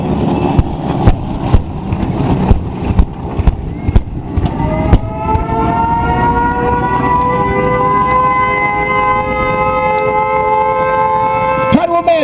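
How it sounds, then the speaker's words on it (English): Air raid sirens wail at a Pearl Harbor battle re-enactment, rising and holding loud and steady, after a burst of sharp explosive pops from pyrotechnic blasts. "Hear the sirens just as they did that day."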